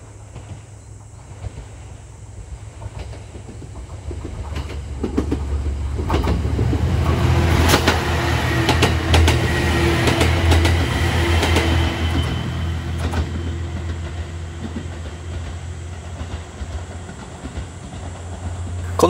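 A limited express train on the San'in Main Line passes by, its rumble building from quiet to a loud sustained roar with faint clacking, then tapering off.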